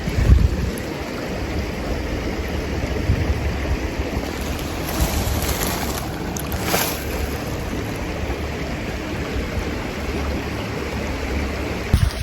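Small creek flowing over rocks into a pool, a steady broadband rush of water close by, constant throughout with no talk.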